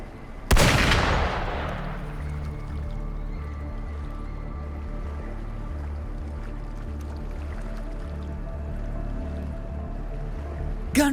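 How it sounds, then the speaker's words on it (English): A single loud gunshot blast in the game Wuthering Waves, sharp at the start and fading, followed by a low pulsing rumbling drone that continues to the end, with a faint burst closing the clip; no speech. "Gunfire! We've got intruders."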